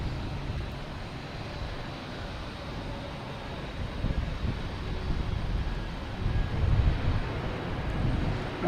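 A JetBlue Airbus A320 takes off at Boston Logan Airport, heard as a steady, broad roar that swells toward the end, with some wind buffeting on the microphone.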